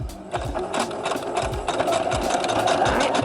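Sewing machine stitching a basic seam in fabric, a steady fast mechanical whir with rhythmic needle thumping, close and loud and continuous, with no talk.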